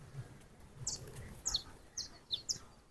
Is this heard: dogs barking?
no